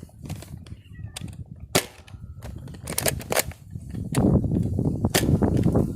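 A Buzz Bee Air Warriors Pixelator toy dart blaster fires level shots during a range test. Several sharp snapping pops are scattered through the clip among clicks and handling noise, with a rougher background rise near the end.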